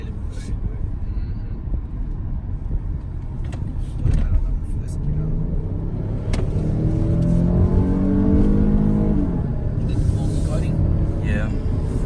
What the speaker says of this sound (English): You can tell by the V6. This thing put down it puts down a lot of power.